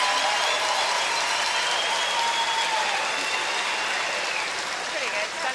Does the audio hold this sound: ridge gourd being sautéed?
no